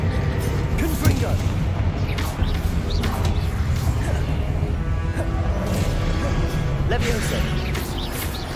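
Spell explosions and impacts from a Confringo blasting curse during combat in Hogwarts Legacy, repeated sharp booms and crashes over a loud busy game mix, with a voice talking throughout.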